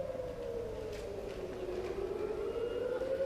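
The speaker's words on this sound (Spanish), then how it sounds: "Eso sí, una sirena de alerta. Esta es una alarma antiaérea." An air raid siren wails across Tel Aviv, a single sustained tone sliding slowly downward in pitch, distant and fairly faint against a low background hum.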